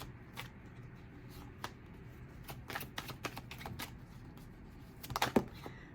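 Tarot cards being shuffled, heard as soft, scattered riffling and snapping card sounds, close and fairly quiet, that build into a denser flurry near the end.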